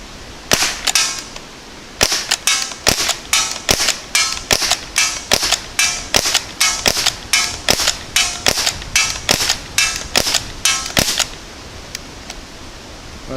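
A Crosman 1077 air rifle fires about twenty sharp, snappy shots in quick rhythmic succession, loud and close, with short pauses early on and no voices.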